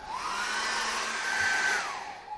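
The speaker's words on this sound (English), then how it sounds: "I just run the hairdryer over that" A hair dryer blows steadily at close range over acrylic paint to dry it, a continuous whirring roar with a rising then falling whine, no voices.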